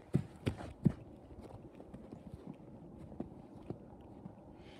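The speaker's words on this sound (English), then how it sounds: "I hear footsteps." Footsteps in a video game, a few loud thudding steps up close at first and then fainter, scattered steps over a low background rumble.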